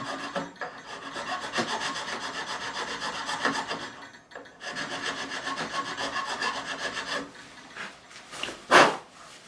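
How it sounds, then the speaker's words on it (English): Coarse file rasping steadily back and forth across the nut of a Harley Benton RB-600 Rickenbacker-replica bass while shaping the string slots, close and continuous with a brief pause midway and a sharp scrape near the end. "Quite a coarse file, just to remove the main material."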